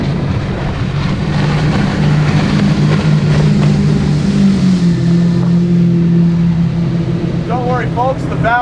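A Fountain 38 center console boat with 350-horsepower inline-six engines accelerates on open water, a loud, continuous engine roar rising in pitch with wind and water rush, while people talk over it.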